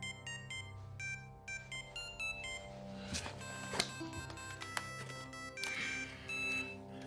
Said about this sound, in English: Hartnett's ringtone is the more upbeat and fun Funky Town